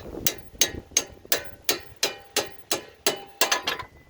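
Ball joint tool on a 2001–2005 Lexus IS300 suspension struck with a hammer about a dozen times, sharp metallic blows in an even rhythm that speeds into a quick flurry near the end, close and loud with no talk.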